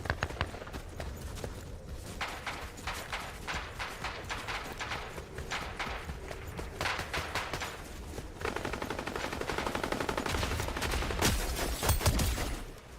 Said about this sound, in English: This is the Hush's Deadeye Assault Rifle.